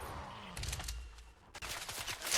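Rapid bursts of Fortnite gunfire crackle in quick succession, fairly faint and mixed with other game noise.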